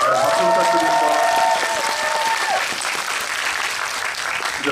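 Loud, sustained applause from a cinema audience at a film Q&A screening, a dense wash of clapping with cheering and voices mixed in throughout.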